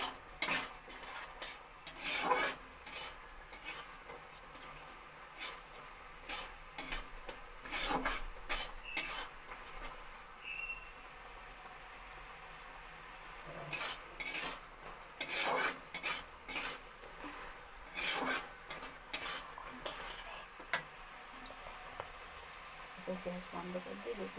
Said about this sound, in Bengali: চিনি যতক্ষণ না গলছে ততক্ষণ তোমাদের নাড়াতে হবে